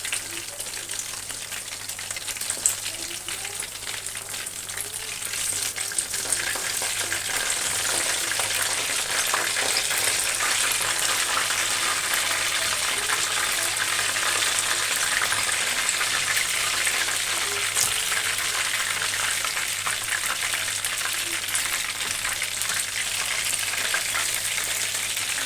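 Cornflour-coated fish fries in hot oil, a steady, dense crackling sizzle that holds close and loud for the whole stretch, with no voices over it.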